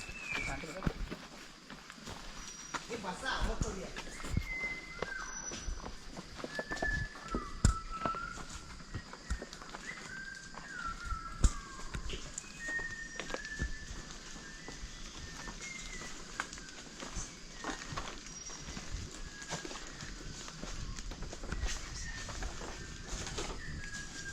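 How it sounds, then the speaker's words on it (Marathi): Birds sing and chirp steadily in a quiet misty forest on a trek to Bhairavgad fort near Satara, several thin whistling calls overlapping against faint background rustle and occasional footsteps. "पक्ष्यांचा आवाज बघा कसा आहे तो ऐका फक्त"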